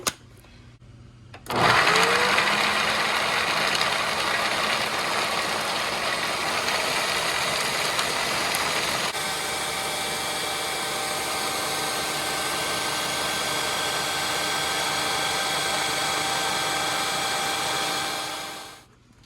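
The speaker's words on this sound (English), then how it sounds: "We're just gonna grind them up so they're more digestible." An electric grinder whirs steadily as it grinds about seven ounces of almonds for homemade raw dog food, starting abruptly, running loud and continuous with a slight shift partway through, then cutting off near the end.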